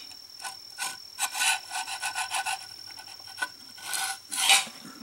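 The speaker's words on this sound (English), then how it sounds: "I'm just using the edge as like a scraper." A metal file scraping inside the keyway of a flywheel and crankshaft, in short rasping strokes, irregular and close up, with no talking.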